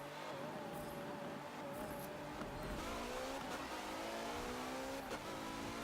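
A race car in Forza Motorsport 7 at Monza accelerates through the gears, its engine revving loud and close with rising whine and brief tire squeal, steady throughout with no talk.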